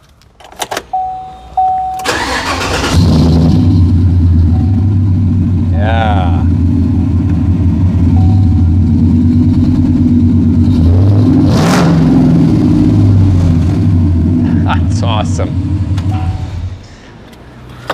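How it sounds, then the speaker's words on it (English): Car engine at a hot rod gathering cranks and catches, then idles roughly with a deep, loud rumble and a sharp rev partway through before cutting off; a brief voice is heard near the start. "And yes, I revved it up, but I was just driving it so late."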